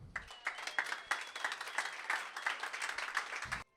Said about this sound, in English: Round of applause for you all.